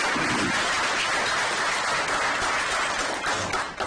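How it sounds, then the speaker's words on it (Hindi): An audience at a political gathering with Delhi's chief minister claps loudly and continuously, a dense, steady wash of applause that holds throughout and dips slightly at the end. "एक बार जोरदार तालियां करते।"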